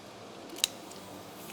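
Scissors give a single quick, sharp snip on a brew day, cutting open a yeast packet before it is pitched into the wort, over a quiet steady room background.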